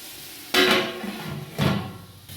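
Two bursts of metal scraping and clanking as a spoon stirs chicken with ginger-garlic paste in a pot for biryani, close by with a pause between them.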